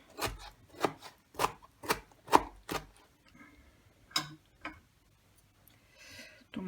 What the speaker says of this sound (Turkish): Domatesimizi de ince ince doğruyoruz.